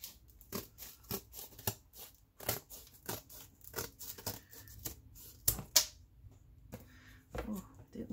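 Scissors cut paper along a crease for a lapbook cover, making a series of quiet, crisp snips at an uneven pace with short pauses between cuts.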